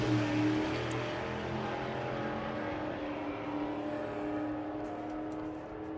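A drag racing street car launches down the strip at a sportsman nationals street weekend, giving a steady, sustained engine roar heard from a distance and fairly faint, with no speech.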